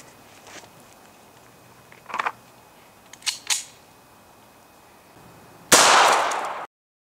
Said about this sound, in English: Let's get it shot through the gel and find out how it works.